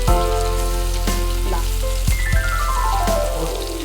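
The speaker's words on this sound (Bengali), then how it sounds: "এখন আমি রসুন কুচিটা দেবো" Chopped garlic hits hot oil in a pan while making Kabuli salad, giving a close, steady sizzle with a few sharp crackles and clinks, heard alone with tonal sounds in the background.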